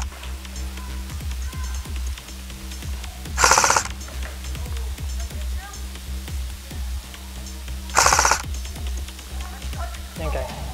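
A G&G M14 EBR airsoft rifle fires rounds at a target outdoors. Two sharp, hissing bursts of shots come several seconds apart, loud and close, over a background of steady talking.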